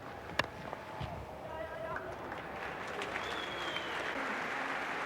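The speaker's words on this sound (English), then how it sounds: "Chalked up his 50 with that single, and hence the applause from the crowd" Crowd applause rolls steadily through a stadium at a 1991-92 Australia versus India cricket Test match, a sustained clapping wash under a commentator's voice.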